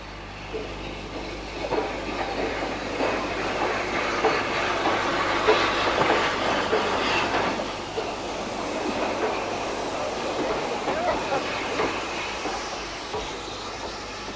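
A train passing at Alresford while a steam locomotive waits on the line, with continuous rumbling and clattering wheel noise building and fading over about fourteen seconds, fairly loud and close.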